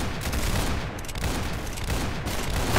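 Rapid bursts of gunfire from the online shooter game Arsenal rattle continuously at close range, dense overlapping shots with brief lulls.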